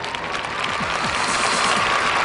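A studio audience at a Vietnamese television show applauds in a dense, steady wash of clapping that holds at an even, loud level throughout, with no one speaking.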